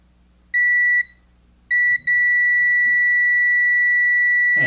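A ZOTEK digital handheld automotive multimeter on continuity test, checking a partly broken wire, gives a steady high-pitched beep: a short tone, a brief blip, then a long continuous sustained beep.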